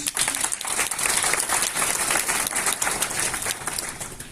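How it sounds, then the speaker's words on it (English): Audience applause at a talk on stress and self-doubt in clinical healthcare practice: dense, steady clapping from a seated crowd, moderately loud and easing slightly at the end, with no talk over it. "Round of applause for these two, please."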